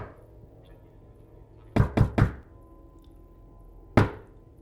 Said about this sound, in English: you got the knocks perfectly